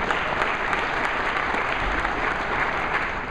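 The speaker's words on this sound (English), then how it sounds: "That's worth applause" A keynote audience applauds steadily, a dense even wash of many hands clapping at moderate distance, sustained without pause and no voices over it.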